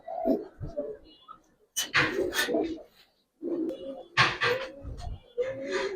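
Giribaz pigeons coo in soft, throaty bursts at close range, broken by short pauses, with handling noises and a little nearby movement between the calls.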